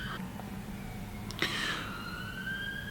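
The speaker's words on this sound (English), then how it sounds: "right after the ambulance goes. Why are there so many ambulances?" A distant ambulance siren wails faintly through steady background noise, its rising and falling tone sweeping across the clip with no talk over it.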